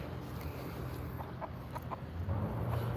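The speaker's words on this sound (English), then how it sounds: "That one is the rooster with the green feathers." Chickens and a green-feathered rooster cluck softly at a close distance, with steady low background noise throughout.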